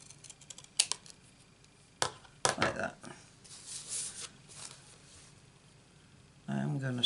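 Scissors snip through card as it is cut around a stamped shape on Night of Navy cardstock, giving a few sharp crisp cuts and a longer sliding cut, close and fairly quiet amid light handling noises.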